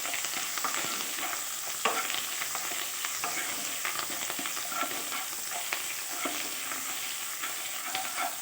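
Ginger with salt and turmeric sizzles in a pan while being stirred, a close, continuous frying hiss with scraping strokes and small pops throughout.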